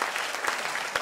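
A brief burst of audience applause during a tourism policy speech: many hands clapping at once, dense and steady, heard at a moderate distance.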